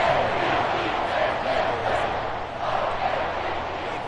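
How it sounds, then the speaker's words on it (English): A football stadium crowd roaring during a fourth-quarter comeback in a tied game, a loud, sustained wash of cheering and shouting that swells slightly, with a voice faintly present under it. "This crowd alive again."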